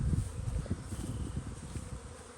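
A swarm of honey bees fanning at a swarm trap beneath a tree gives a dense, continuous buzzing hum, close and steady, with no voices.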